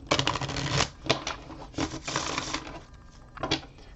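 A deck of tarot cards is shuffled by hand in quick bursts, crisp riffling clatters close up, pausing briefly between rapid runs, with no voices heard.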